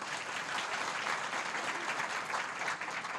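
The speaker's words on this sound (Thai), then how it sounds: "ไหนปรบมือดังๆ ให้ตัวเองนิดนึงนะคะ" An audience at a business seminar claps for itself, a thick, even wall of applause that stays steady and fairly close for the whole clip, with no voices rising above it.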